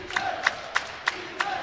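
A basketball crowd at a Yeshiva Macs versus NYU Violets game chants defense, five rhythmic shouted beats evenly spaced, moderately distant and echoing in the gym.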